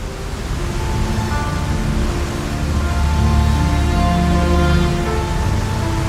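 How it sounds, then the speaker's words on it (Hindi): A powerful waterfall pours between two mountains, a loud continuous broadband roar of rushing water that stays steady and close, with no talk over it. "इस वाटरफॉल की जो आवाज़ आ रही है वो इतनी तेज़ आ रही है"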